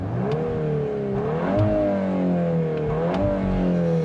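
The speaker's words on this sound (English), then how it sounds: "You can hear the engine gets louder and it revs up in drift or special mode." A 2023 Volkswagen Golf R 20th Anniversary DSG hot hatch revs its engine in drift or special mode, the steady drone rising and falling in pitch through several close, loud swells with no talking.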